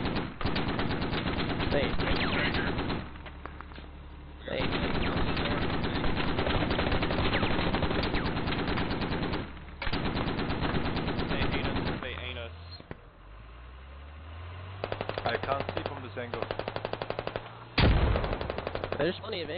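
Rapid automatic gunfire bursts repeatedly in a video game, loud and dense, broken by short pauses, with a player's voice briefly heard.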